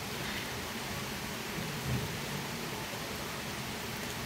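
Continuous rain hisses steadily in a broad wash of noise, with a low rumble underneath and no voices.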